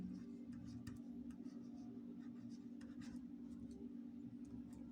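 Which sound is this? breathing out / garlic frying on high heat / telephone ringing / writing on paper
writing on paper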